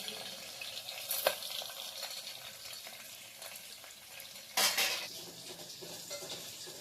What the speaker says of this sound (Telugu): ఇప్పుడు తాలింపు గింజలు వేసుకుంటాం